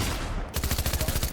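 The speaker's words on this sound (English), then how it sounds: "Who's shooting me?" Gunfire from the video game Dark and Darker, a rapid burst of close, loud shots starting about halfway through and running to the end.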